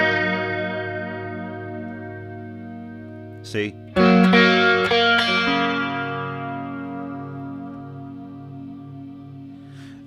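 Guitar notes ring out through a Warm Audio WA-C1 chorus vibrato pedal, the tone wavering and shimmering as it decays, with a few brighter plucked notes struck midway and a brief spoken word.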